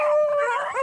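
Hunting dogs on a Virginia rabbit hunt give a loud, sustained, close howl while chasing a rabbit, a single drawn-out baying cry lasting under a second.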